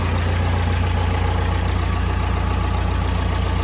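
A Massey Ferguson 285 tractor engine runs at a steady idle, a loud, constant low rumble with no breaks or changes in pace.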